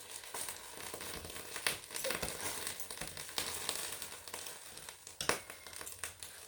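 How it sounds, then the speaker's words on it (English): A crock pot fitted with a plastic liner sizzles and crackles steadily while salsa chicken cooks, a dense close hiss with a few sharper pops and crinkles throughout. "I do notice that the crock pot sizzles a lot when I use the crock pot liners."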